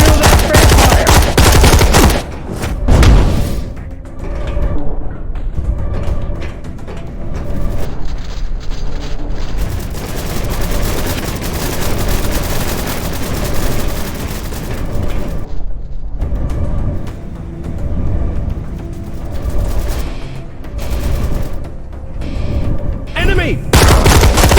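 Rapid bursts of gunfire and heavy booming blasts from a firefight against vampires in the video game DARK, loud and dense for most of the stretch with brief lulls, alongside shouted combat voices.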